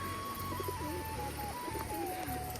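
Feather-footed pigeons coo softly in repeated low, throaty phrases over a steady background hum, fairly close.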